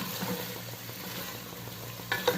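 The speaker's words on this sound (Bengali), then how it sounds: "তো সব কিছুরে একখানে কষাই নিব 5-6 মিনিটের সময় মতো।" Potatoes, tomato and spices frying together in a pan, a quiet continuous sizzle with faint stirring and a couple of sharper clinks near the end, no voices.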